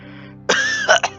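A voice imitates an old steam engine coughing in an audio drama: one short, rough throat-clearing burst followed by two quick hacking coughs, close and fairly quiet over a faint low background.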